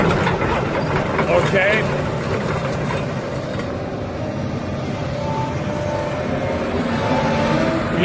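A 2002 Daewoo Solar 220 LC-V excavator's diesel engine runs nearby with a steady low rumble, and someone says a brief word over it.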